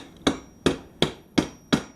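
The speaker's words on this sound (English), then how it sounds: "Take another whack at it with a hammer just to make sure it's set." Hammer striking a plastic clip into the housing of a low voltage outdoor light fixture: five sharp, evenly spaced knocks, close and loud, with no voices.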